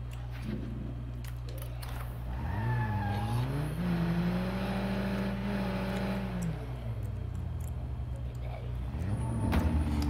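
A car engine in Halo 5 revs and rises in pitch, then settles and winds down with faint tire noise, heard at moderate level under low game ambience.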